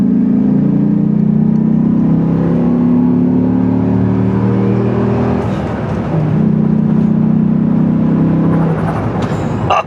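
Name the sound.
Dodge Ram SRT-10 Viper truck V10 engine revving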